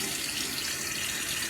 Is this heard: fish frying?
no